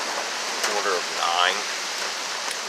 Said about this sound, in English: there's been that much rain in that short period of time